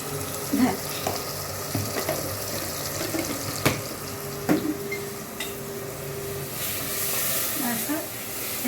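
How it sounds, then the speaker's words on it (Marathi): Sweet stuffed bitter gourds fry gently in a pan on a low flame, giving a steady soft sizzle with occasional light clicks and clatter close by. "ह्याला स्लो गॅसवर जराशी फ्राय होऊन देते"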